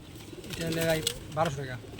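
A pigeon coos in short bursts at a pigeon seller's stall, with someone talking over the calls.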